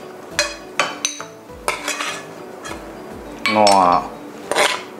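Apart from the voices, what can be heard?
serving stir-fried mussels in XO sauce onto a plate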